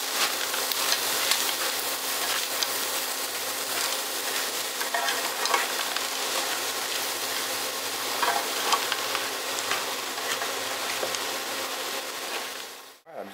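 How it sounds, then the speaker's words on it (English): Onions and frozen peppers sizzle steadily over high heat in a breakfast skillet. The frying hiss is continuous and close, stirring clatters now and then, and the sound cuts off abruptly at the end. "Continue cooking that on high until those onions start to get a little translucent"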